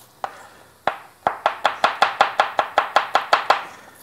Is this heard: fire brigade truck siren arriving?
no